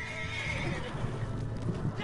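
A horse in the video game Red Dead Online neighs amid a dense, noisy game soundscape, with hoof clip-clops mixed in, steady and moderately loud.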